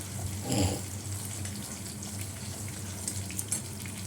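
Fenugreek seeds tempering in hot oil: a steady, moderately quiet sizzle and crackle that swells briefly near the start, then continues evenly throughout.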